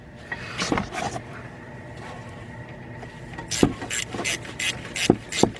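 Ratcheting on an alternator bolt of a 2001 Saturn L300 3.0 V6, with quick rasping clicks in bursts, the strongest a series of close, sharp ratchet strokes in the latter half.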